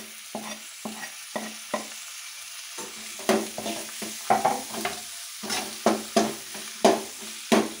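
Chili, ginger and tomato frying in a pan for a Tattukada-style chutney, with repeated bursts of sizzling and stirring scrapes in an uneven rhythm over a quiet background.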